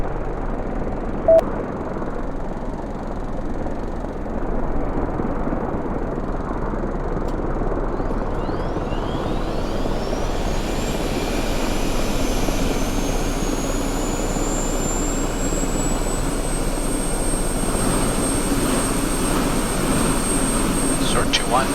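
A military jet in the DCS flight simulator spools up at engine start, a rising turbine whine climbing steadily over a constant cockpit rumble, continuous and fairly loud, no voices.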